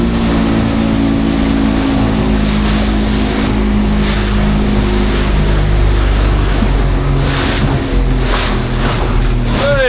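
A commercial beach-launched fishing boat on a herring drift-netting trip motors through choppy, lumpy water over the edge of a bank, with a steady loud engine drone and constant splashing and wash throughout.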